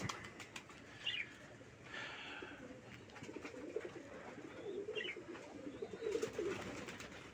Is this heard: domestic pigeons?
yes